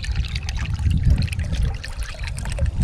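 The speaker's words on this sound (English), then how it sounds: "We're just in the artesian hot tub at the moment." Water trickles and sloshes in an outdoor artesian hot tub, a close, continuous bubbling and dribbling with soft splashes and no voices.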